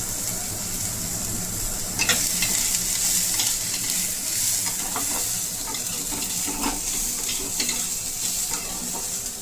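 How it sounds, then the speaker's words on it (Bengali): Chopped beans and mixed vegetables frying in a pan for a momo filling make a loud, steady sizzle throughout, with occasional scrapes and clinks from stirring. "একে একে সমস্ত সবজিগুলো দিয়ে হালকা করে ভেজে নেব"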